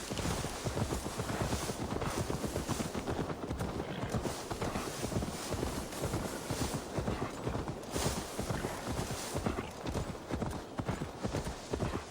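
Horse hooves clip-clop in a steady walking rhythm in Assassin's Creed Valhalla, close and continuous throughout with no voices.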